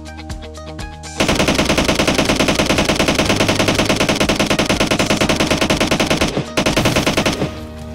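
Rapid automatic gunfire in the PUBG Mobile game, aimed at a Jeep, blasting loud and continuous for several seconds after a brief start, with a short break before it resumes and tails off.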